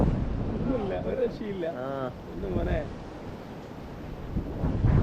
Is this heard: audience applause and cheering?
no